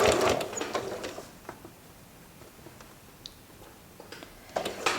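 A sewing machine stitching quilt binding, rapid mechanical chattering in loud bursts at the start and the end with a quieter low hum between them.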